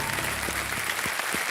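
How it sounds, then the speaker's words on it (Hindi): A studio audience on the KBC quiz show breaks into steady, dense clapping that fills the room evenly throughout, with a few louder individual claps standing out. "तालियां बज जाए इनके लिए।"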